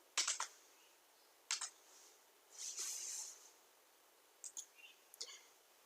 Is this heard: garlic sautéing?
no